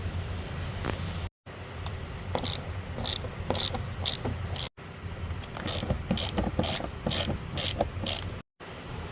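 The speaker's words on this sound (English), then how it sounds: "now to remove the trim panel, we gotta take off these two T30 bolts right here" A ratchet backs out T30 bolts holding the door trim on a 2011 BMW F10 5 Series, a close run of quick, crisp clicking bursts with brief pauses between turns.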